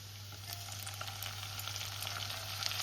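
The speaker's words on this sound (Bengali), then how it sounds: "টমেটোটাও একটু কাঁচা গন্ধ চলে যাওয়া অবধি আমি ভেজে নেব।" Chopped tomato frying in a pan with lightly fried garlic and onion while a chicken masala fry is cooked, giving a steady, close sizzle with small crackles and pops that continues alone throughout.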